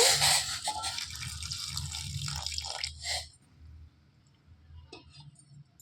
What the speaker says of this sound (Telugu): ఈ ఉసిరికాయలన్నింటినీ బాగా నీళ్ళలో వేసి కడిగేసుకోవాలండి ఒక రెండు మూడు సార్లు